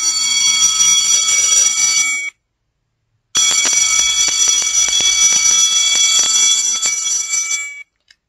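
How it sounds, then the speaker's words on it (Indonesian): An electric bell rings loud and continuous like a school bell, a long metallic ring of about two seconds, a second's silence, then a longer stretch of ringing of roughly four and a half seconds. "Siapa yang rindu dengan suara bel di sekolah?"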